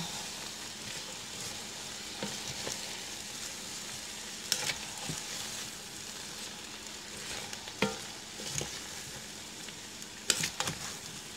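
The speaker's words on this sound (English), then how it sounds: "you want to stir this for like maybe probably about 5 minutes, just to really get the cabbage going" Cabbage fries in a pan while being stirred, a continuous crackling sizzle with scattered scrapes and clacks of a utensil against the pan, close and fairly soft.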